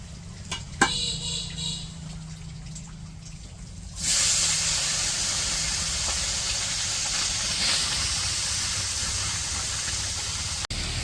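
Small puti fish drop into hot oil, a quiet stretch breaking into a sudden loud sizzle that continues as a steady, bright hiss of frying.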